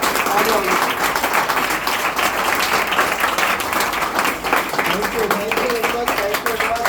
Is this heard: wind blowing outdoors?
no